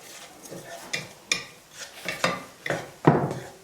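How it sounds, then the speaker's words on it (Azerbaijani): Onions frying in a pan as a utensil scrapes and knocks against the metal, with sharp clinks at irregular intervals over a soft sizzle. "Və soğan qovuruldu"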